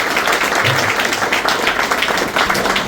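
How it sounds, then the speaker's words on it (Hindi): An audience at a yearly railway track maintainers' meeting claps in a steady, dense stream of applause filling the whole stretch without pause. "आप लोग एक बार जोरदार हाथ ताली दीजिए"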